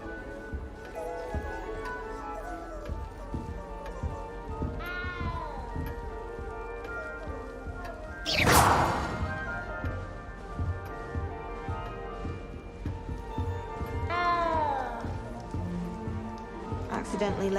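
A cat in Hogwarts Legacy meows several times in drawn-out, wavering calls, one loud close cry standing out in the middle, over steady game ambience with voices talking.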